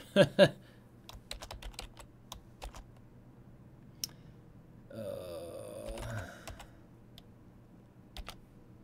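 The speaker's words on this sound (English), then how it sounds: "so you guys can't see what I'm typing" Quick bursts of typing on a computer keyboard, with irregular clusters of key clicks in a quiet room, a louder pair of taps at the start and a short hum partway through.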